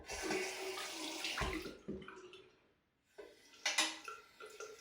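Water runs from a tap as an adjustable razor is rinsed under it, a splashing rush that pauses briefly and then resumes with clinks of the razor, all close by and with no voices.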